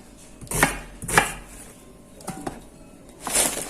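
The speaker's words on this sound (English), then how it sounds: "Doesn't matter how you cut them, just cut them enough so they can sweat" Knife chopping vegetables for a pumpkin curry mussel soup, a few separate scattered chops on a board, fairly close, with quiet pauses between them and no talking.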